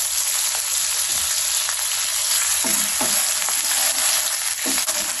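Butter is stirred into melted sugar caramel for popcorn, making a loud, dense, steady frying sizzle close up, punctuated by soft scraping strokes of the spoon against the pan.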